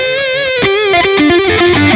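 Distorted electric guitar with a mid boost through a Line 6 Dream Rig, playing a short sustained metal phrase of bending, shifting notes, loud and close with no talk.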